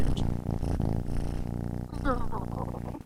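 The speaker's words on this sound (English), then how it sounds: "Can you hear her purring?" A ginger cat's steady low rumbling purr close to the microphone, running under a voice speaking softly and affectionately throughout.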